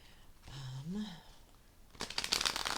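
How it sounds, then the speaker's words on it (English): Tarot cards being shuffled, a brief crisp riffling burst near the end after a short hum-like voiced tone, close and fairly quiet. "Let's get to shuffling and get to our reading."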